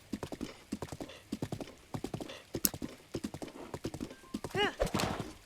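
A horse in Zelda Breath of the Wild trots with steady rhythmic hoof clops, close and loud, then lets out a clear neigh near the end.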